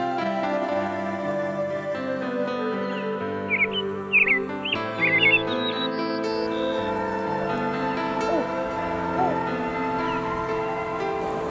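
Birds near the Saut du Doubs waterfall in the French Jura sing in short, bright chirps and whistled phrases, scattered over a steady tonal background with no talking.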